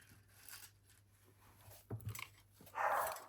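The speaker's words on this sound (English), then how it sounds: "You can hear my dog barking." A small house dog barks a few times, brief muffled yaps at a distance, the loudest near the end, in an otherwise quiet room.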